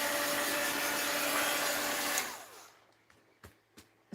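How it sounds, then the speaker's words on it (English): A heat gun blows steadily on faux salt dough, a loud, even rushing roar that cuts off abruptly partway through, leaving quiet with a few faint knocks and taps. "Holding the heat gun too close to it."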